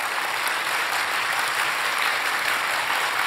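Sustained, full applause from an audience at a church testimony event, loud dense clapping held evenly throughout with no talk over it.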